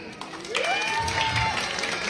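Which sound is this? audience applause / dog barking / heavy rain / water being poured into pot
audience applause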